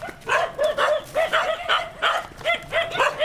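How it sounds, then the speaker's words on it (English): Several neighborhood dogs in Bali bark in a steady, repeated rhythm of sharp yips and woofs, fairly close and loud, with no talk over them. "These dogs are not going to give us a break, are they?"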